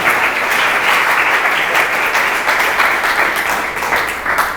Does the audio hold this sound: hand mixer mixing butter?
no